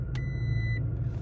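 A Toyota Tacoma SR5 pickup starts up quietly, a soft low idle hum with a brief electronic chime tone ringing over it near the start.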